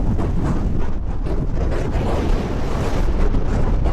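Loud, steady wind buffets the microphone at the hilltop summit of Moel Arthur in North Wales, a continuous low roar with no talking.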